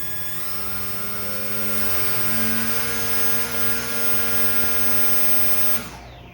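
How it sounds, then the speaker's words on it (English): An electric motor on a Hobbyzone AeroScout S2 RC plane with an Avian Smart Lite 30A ESC runs at full-throttle reverse thrust, a loud steady whine with a propeller drone that holds for several seconds and then cuts off at the end. "now I'm going full throttle reverse thrust"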